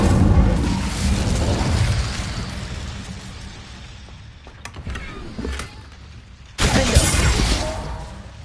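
A fire spell cast in the video game Hogwarts Legacy, heard as a loud whooshing burst that rumbles on for several seconds, followed by a fainter crackle and then a second sharp flare near the end.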